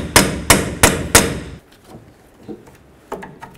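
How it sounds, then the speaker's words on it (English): A hammer strikes a punch four times in quick, evenly spaced, loud metallic blows, knocking a front axle free from its bearing on a 1988-2000 Chevy C/K1500 truck, followed by quieter scattered knocks and clinks. "Use a punch and a hammer and break your axle free from the bearing."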